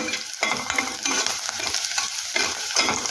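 Green chillies are sautéed in a pan for sabudana khichdi, a loud close sizzle with bursts of scraping and stirring in uneven waves, no voices.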